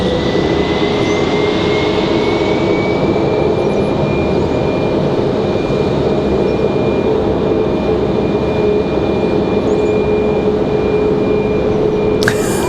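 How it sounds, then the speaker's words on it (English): An Airbus A220-300 airliner in Sun Country livery lands on runway 23 right, a loud, steady jet roar with a sustained whine that holds for several seconds, with no talk. "This one's going to be an A220-300. This one coming in on 23 right."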